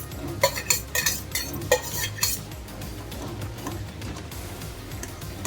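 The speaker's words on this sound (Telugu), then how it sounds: "బాగా వేసి కలుపుకుందాం" A spoon stirs fried banana pieces into banana kesari bath in a pan, with several sharp metal clinks and taps against the pan early on, then softer, steady scraping and stirring close up.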